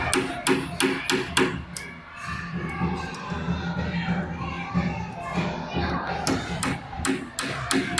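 A hammer drives nails into wood while a plywood door is replaced, striking repeatedly in quick, even bursts of blows, pausing in the middle, while children's voices chatter in the background.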